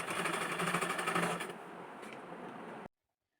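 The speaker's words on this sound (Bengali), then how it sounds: "ডাবল করে সেলাই বসিয়ে দিচ্ছি।" A sewing machine runs a fast, steady, close-up chatter while putting a double line of stitches into palazzo pant fabric, then stops suddenly after about three seconds.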